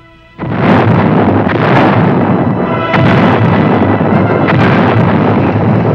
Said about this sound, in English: But tanks played an important fire support role.